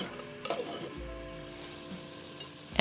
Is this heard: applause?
no